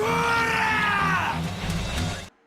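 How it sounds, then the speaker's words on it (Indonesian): A crowd of young men yells and screams together in a sustained, loud roar as they charge into a school brawl, ending abruptly. "Dengan penuh semangat, mereka pun berlari sambil berteriak."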